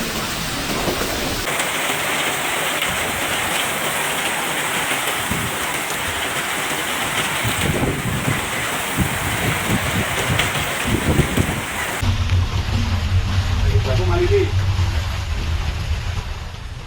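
Heavy rain and a wind storm in Surabaya make a loud, steady roar of downpour that barely lets up, its tone shifting partway through as the gusts and rain change.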